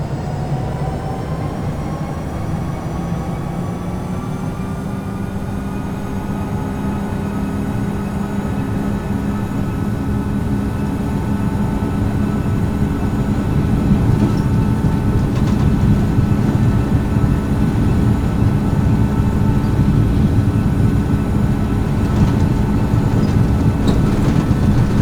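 An Oman Air Boeing 737-800 MAX on its takeoff roll, heard from inside the cabin: a loud, steady engine roar with a low rumble and tonal whine that swells partway through as thrust builds, with no talk.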